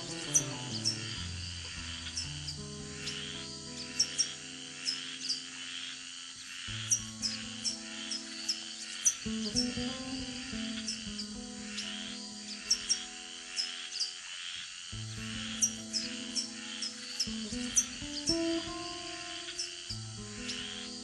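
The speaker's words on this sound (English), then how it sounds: "Again the frogs call, but this time they are calling on the cover of night's veil of darkness." At night in the Amazon rainforest, frogs call in layered croaks and trills over a dense bed of chirping insects, with rhythmic high clicks repeating throughout and no voices.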